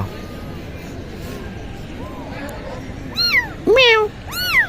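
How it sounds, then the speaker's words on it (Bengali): Tiny local kittens mew in several thin, rising and falling cries, growing louder toward the end, over a steady outdoor background murmur. "অনেক ছোট ছোট বিড়াল নিয়ে এসেছে"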